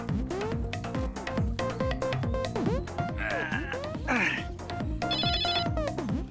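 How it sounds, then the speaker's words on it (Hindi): A phone rings during a Hindi comedy series scene, its electronic ringing surfacing in short bursts over a busy, loud music bed with steady beats. "अरे भैया इनका तो फोन बज रहा है।"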